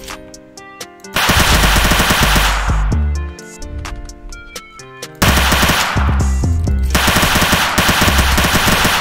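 Vector submachine gun fire in the video game South London 2, with loud, close, rapid automatic bursts that start and stop abruptly and are separated by short pauses and a few single shots.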